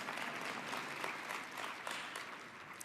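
A convention crowd at the 2026 Conservative Convention plenary claps steadily, a dense, distant-sounding wash of applause with a few louder individual claps, faint overall and without speech.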